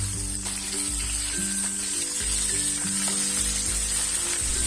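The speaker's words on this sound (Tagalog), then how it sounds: "Mag-start na tayo magprito." Fish sizzling in hot cooking oil in a pan, a steady close frying hiss running throughout, with low kitchen hum beneath.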